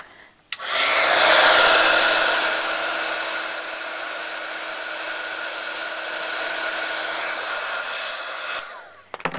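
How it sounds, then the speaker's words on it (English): A heat gun blows on embossing powder to heat-set it, a continuous loud whooshing hum that starts abruptly, holds steady for about eight seconds and then cuts off. "you're just going to dry it off or heat set it with your heat gun"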